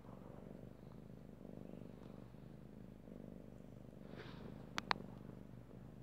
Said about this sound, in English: Sorry, my cat is being loud.